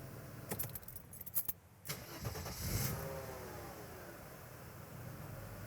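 Car engine cranking and catching after an EHA valve replacement, preceded by keys jangling close by, then a steady low idle hum that continues quietly to the end.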